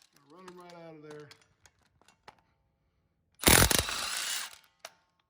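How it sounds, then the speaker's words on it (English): Ratchet with a small 13 mm 12-point socket backing bolts out during a Dana 30 axle teardown, a dense burst of fast clicking for about a second, with a voice speaking beforehand. "We got this little 13 millimeter 12-point socket. Run them right out of there."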